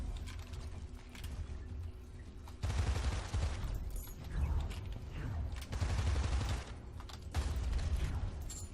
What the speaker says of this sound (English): Especially with a fully automatic weapon.